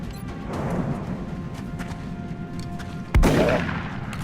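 Shotgun fire in the video game XCOM: Enemy Within, a single sharp, loud blast near the end over a steady low background of game ambience.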